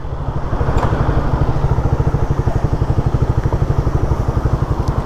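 Carbureted Suzuki Raider motorcycle engine idling close by, with a steady, even chug of rapid firing pulses and a light mechanical clatter that hold for about five seconds, with no one talking.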